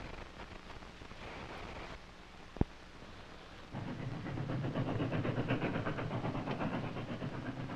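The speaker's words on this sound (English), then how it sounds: "It's a train." A train rumbles past with a low, rushing roar that swells louder after a sharp knock, steady and close with no voices.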